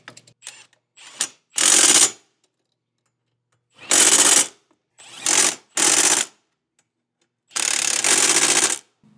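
Hand ratchet tightening the muffler mounts of a Treal Performance Vader exhaust on a Segway Villain side-by-side: several loud, close bursts of rapid clicking with quiet gaps between them.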